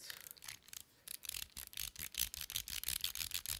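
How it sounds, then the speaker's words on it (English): A Ruisha Shock Bomb 2.0 fidget toy in titanium and black stainless steel ratchets close up, a rapid series of small dry clicks and rubbing ticks that quickens toward the end, quiet and with no voice. "It ratchets."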